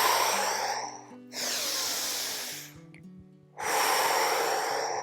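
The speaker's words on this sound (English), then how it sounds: "Inhale, exhale, force out that air." A person breathes forcefully during an exercise class, three long, loud, close rushes of air separated by brief pauses, with no talking.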